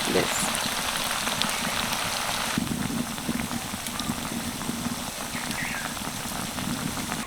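Semolina (suji) pakora batter dropped into hot oil, frying with a steady dense crackle and bubbling like rain on a surface, close and continuous throughout.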